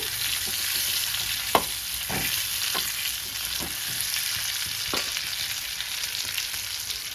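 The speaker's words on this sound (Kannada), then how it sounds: "ಹಸಿಮೆಣಸಿನ್ಕಾಯಿ ಇದೆಲ್ಲ ಡೀಪ್ ಫ್ರೈ ಮಾಡ್ಕೊಳ್ಳೋಣ ಸ್ವಲ್ಪ ಚೆನ್ನಾಗಿ ಬೇಯಲಿ" Green chillies deep frying in hot oil produce a steady, fairly loud bubbling sizzle, with a handful of soft scraping stirs and one sharp knock against the pan, and no talking.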